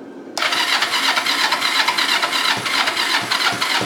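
A motorcycle with its choke on and a Shorai battery fitted cranks and catches, giving a loud, steady, close engine roar that starts abruptly and runs without pause.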